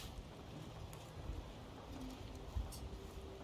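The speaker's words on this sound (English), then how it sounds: "Oh, I forgot about the pigeon." A pigeon coos softly in the video game Yes, Your Grace, a faint low cooing over a quiet background hiss.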